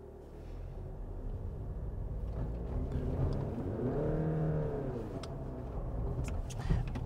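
A Volkswagen Passat Alltrack 2.0 TDI EVO 4MOTION diesel wagon in off-road mode ploughs through wet snow, its engine droning steadily, swelling in the middle and easing off, with a rough rushing texture underneath and no talk.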